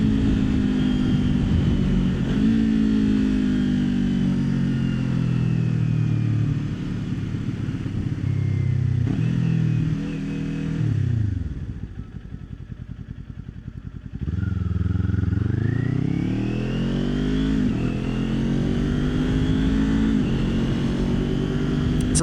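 A Kawasaki Ninja 400 motorcycle engine drones steadily while being ridden, shifting pitch as it accelerates and eases off, dipping low in the middle before climbing again, loud and close with wind rush.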